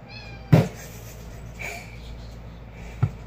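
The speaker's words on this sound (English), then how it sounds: "He keeps meowing." A house cat meows in a kitchen where guacamole is being made, giving a couple of short calls, one louder near call and a fainter one later, over a quiet room.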